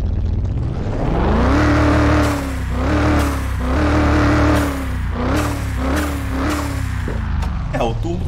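A Citroen C1 with a twin-turbo V8 in a car mechanic video game revs hard and repeatedly, pitch rising and dropping through gear changes, with turbo whooshes and hisses between revs, loud and close.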